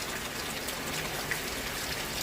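Steady rain falls outdoors during a thunderstorm, a dense even hiss of drops on surfaces heard close and alone, with no voices.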